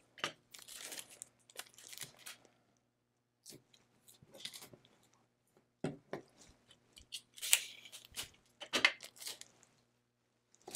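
Scotch tape being pulled and pressed around a piece of leather for a cutting machine project, faint intermittent crinkling, tearing and rubbing sounds in short bursts with quiet gaps between.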